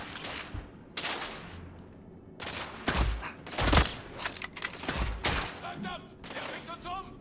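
Sniper fire in The Order: 1886 cracks out in a rapid string of sharp, loud gunshots, interspersed with other battle noise.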